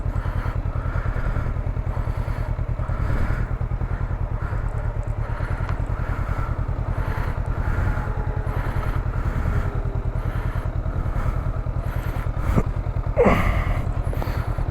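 A motorcycle engine idles and runs steadily close by, a loud continuous low throbbing putter with a few brief clatters near the end.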